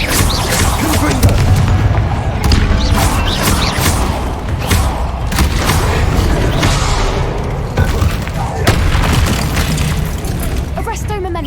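Booming Confringo spell blasts in the Hogwarts Legacy video game go off repeatedly, heavy thuds and bursts layered with battle noise and a voice speaking over the action.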